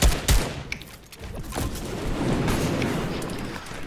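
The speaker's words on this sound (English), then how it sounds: "Yeah, keep firing, keep firing." Gunfire in Fortnite, a loud, dense spray of rapid shots that starts with heavy booms and settles into steady sustained fire close to the listener.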